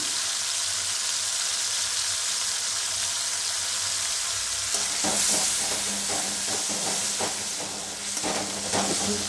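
Spices sizzle in hot oil for tinda and sweet corn curry, a steady loud frying hiss, with a spoon stirring and scraping the pan in the second half.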